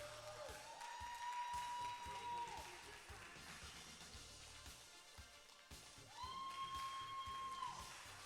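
Audience applause at a men's physique bodybuilding show, a soft diffuse patter of clapping in a hall, faint and distant, with sustained tones sounding over it at moments.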